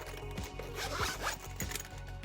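A big metal zipper on a Nintendo Switch OLED carrying case is pulled open in several quick rasping strokes, close and clear against a low background hum.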